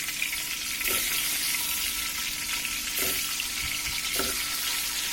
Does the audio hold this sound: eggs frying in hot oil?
yes